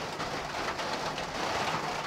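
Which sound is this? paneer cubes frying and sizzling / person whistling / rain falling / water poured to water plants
rain falling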